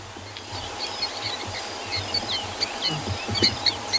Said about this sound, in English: Listen to their little contact calls to their mother.